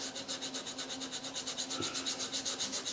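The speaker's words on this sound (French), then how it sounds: "Pas avoir peur de poncer, d'appuyer. Moi je fais ça avec du 400" 400-grit sandpaper rubs back and forth in a quick, steady rhythm on a pyrography-textured model surface, close and even, with no voices.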